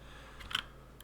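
Typing on a computer keyboard, a short cluster of sharp clicky keystrokes followed by one more isolated tap, heard up close and fairly quiet.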